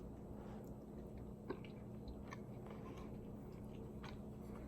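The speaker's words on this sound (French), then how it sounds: "Je me prends un coin croustillant." Chewing on a crispy corner of homemade mac and cheese with pepper, soft close-up crunches and bites at low volume over a steady background hum, no talking.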